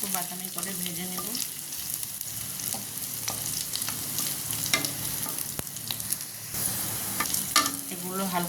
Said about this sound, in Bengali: এখন এগুলো তেলে দিয়ে দেব। এগুলো আমি হালকা একটু বাদামি করে ভেজে নেব।